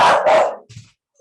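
A dog barking at a delivery person at the door, two loud close barks in quick succession followed by a softer short yip.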